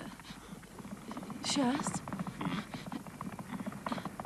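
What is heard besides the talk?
horse hooves clip-clopping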